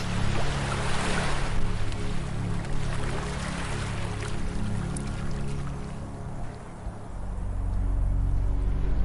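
Ocean waves wash onto a beach in a steady, continuous roar of surf, swelling and easing slightly over several seconds, with a low rumble underneath and no voices.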